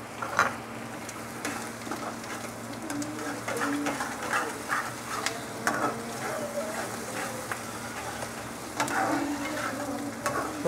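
Ginger garlic paste sizzles and fries in a pan for karela aloo fry, a steady moderate hiss with stirring scrapes and occasional bird coos in the background.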